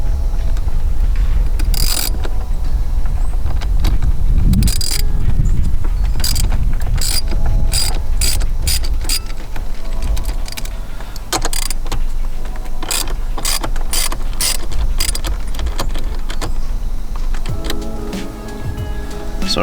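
A ratchet loosens a battery terminal on a Ford F150, giving a steady run of close, rapid mechanical clicks with some scraping and rattling throughout, and no voices.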